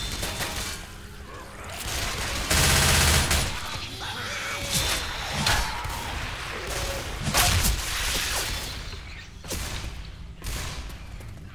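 Left 4 Dead 2 gunfire crackles in repeated bursts with a loud volley near the start, mixed with whooshes, thuds and crashes of zombie combat, and a voice talking faintly underneath.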